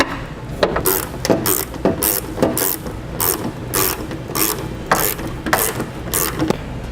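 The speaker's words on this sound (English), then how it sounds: "I'm going to do it from the top using a universal joint socket with our 8mm" A ratchet on an 8mm universal joint socket clicks in repeated bursts of rapid pawl clicks, close and loud, while fastening a tow base plate on a 2015 Ford Fiesta.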